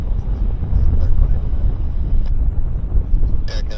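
An airliner lands at Vancouver Airport, heard as a loud, steady engine roar mixed with rumbling wind buffeting the microphone. A short hiss comes near the end.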